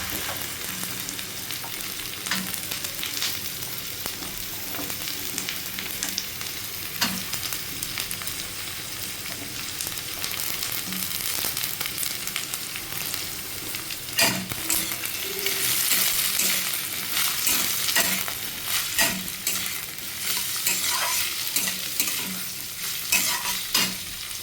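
Eggs and carrots frying together in a pan for fried rice, a steady close sizzle with frequent spatula stirs and scrapes throughout, no talking.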